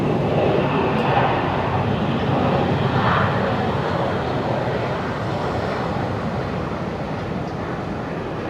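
At Brisbane Airport after sunset, a Qantas airliner's jet engines produce a steady, loud broadband roar that eases slightly over the clip.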